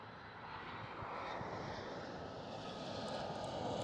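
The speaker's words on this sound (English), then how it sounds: "one of the two China Southern Cargo 777 starting up" A China Southern Cargo Boeing 777 starts its engines after pushback at Amsterdam Schiphol, a steady, even broadband roar from nearby that holds throughout without talk.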